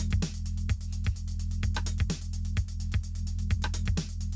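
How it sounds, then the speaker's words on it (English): A DIY breakbeat drum loop pounds along steadily while a fast, even metronome ticks on top, loud and continuous with no voices. "And our ticking metronome gives us some context."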